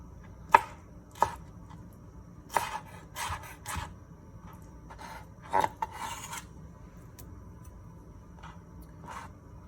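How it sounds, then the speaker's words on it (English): A knife chops a mango into chunks on a cutting board, giving about a dozen sharp, close knocks at uneven intervals, some of them short scraping bursts, over a quiet room. "mango that I wanna kinda cut up nice chunks"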